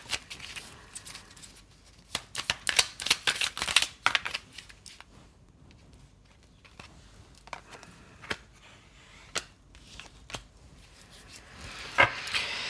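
Tarot cards being handled at close range, soft scattered shuffling, rubbing and tapping sounds in irregular clusters, quiet overall with a few sharper flicks.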